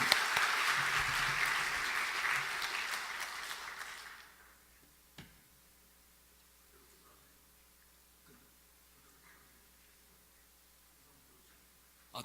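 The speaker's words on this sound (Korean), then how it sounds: "우리 하나님께 영광의 박수 올려드리겠습니다" A church congregation at a Korean Sunday night worship service claps for about four seconds in a dense, loud burst of applause, which then stops and leaves a quiet room with faint rustling.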